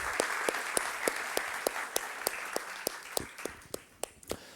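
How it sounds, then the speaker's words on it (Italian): Audience applause at an event on fighting mafia infiltration in the Veneto economy, a steady wash of clapping with sharp individual claps standing out, sustained for several seconds and gradually thinning. "Intanto un applauso."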